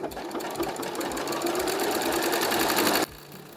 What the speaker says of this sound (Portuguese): Eu escolhi esse pontinho aqui da minha máquina e fiz ele por cima do risco que a gente fez previamente.